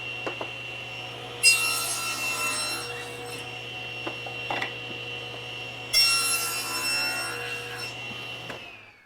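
Saw cutting a wooden chair arm held against the fence, taking a quarter inch off one side: a steady machine hum with two loud bursts of rasping cut noise, near and alone.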